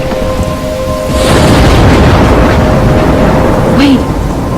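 Video game thunderstorm in Life Is Strange: steady heavy rain hiss with a swelling rumble of thunder midway, loud and enveloping, no one speaking.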